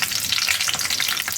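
Spices sizzle and crackle in hot oil in a pan as the start of a green chicken curry, giving a close, continuous bright frying hiss with faint stirring and no voices.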